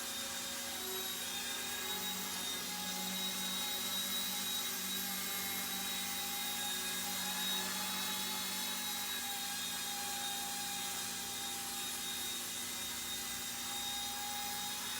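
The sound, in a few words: Eachine E120 BO-105 RC helicopter flying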